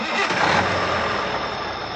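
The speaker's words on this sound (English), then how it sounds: "Joe started the engine, and the journey began." A truck engine cranks and catches, settling into a loud, steady mid-pitched rumble that fills the whole clip, close and continuous with no voices.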